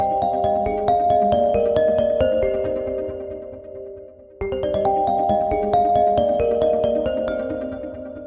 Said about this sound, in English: It's an alternate version of the existing reflection ringtone